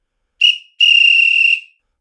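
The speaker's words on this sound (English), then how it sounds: "The officer next to you blows his whistle." A First World War officer's whistle in a trench at the Somme in 1916: one short shrill blast, then a longer sustained trilling blast, loud and close with silence around it.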